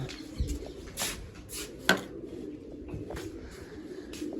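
Pigeons coo softly several times at moderate distance indoors, among the birds a keeper is treating for an eye ailment, with a few sharper bird calls and faint background noise.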